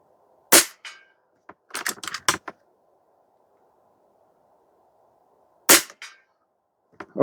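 Air Venturi Avenge-X .22 caliber airgun firing out of the box: sharp, loud shots, one alone, then a quick cluster of four, then two more spaced seconds apart, with silence between them.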